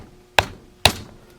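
A hard plastic hammer strikes twice, two sharp loud knocks about half a second apart, each with a short decaying ring, and no talk.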